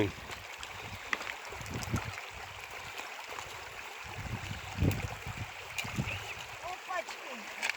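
Steady rushing of a flowing stream fills the background, with occasional louder splashes and people talking over it.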